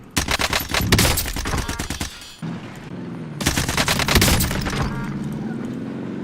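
G3A3 rifle fire in Call of Duty Warzone, two loud sustained bursts of rapid shots in quick succession with a short pause between them. No voices are heard.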